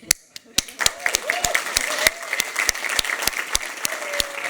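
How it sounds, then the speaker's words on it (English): A summit audience gives a round of applause made of distinct, fairly sparse claps at a steady rhythm, moderately loud, with faint voices beneath. "So that was the round of applause that I want for Bruce."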